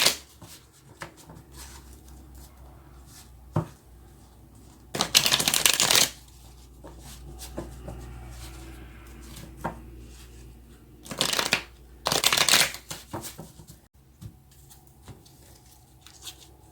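Tarot cards are shuffled in a quiet room, with two loud bursts of riffling and a few soft taps and shuffles around them, and no one speaks.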